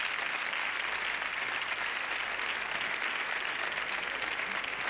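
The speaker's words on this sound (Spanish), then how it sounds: "Un aplauso, por favor." Audience at a comedy show bursts into sustained applause, a dense, even wash of clapping that holds loud and steady for the whole stretch.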